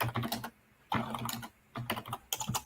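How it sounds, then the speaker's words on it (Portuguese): Keyboard typing clatters in bursts of rapid clicks with short pauses between, quiet and in the background. "tem um batido aí, parece um teclado"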